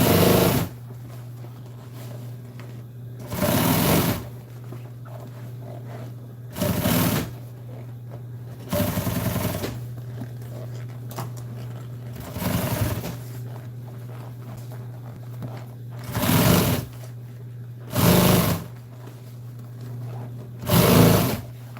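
A sewing machine top-stitches a reupholstered seat cover in a series of short bursts, each a second or so, separated by pauses over a steady low motor hum.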